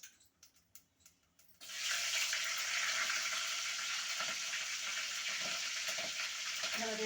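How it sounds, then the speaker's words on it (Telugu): Green chilies hit hot oil for an okra curry with a sudden loud sizzle after a few quiet taps, then a dense, steady frying hiss that carries on close up until the end. "ఇక పచ్చిమిర్చి అయితే వేస్తున్నా ఫ్రెండ్స్"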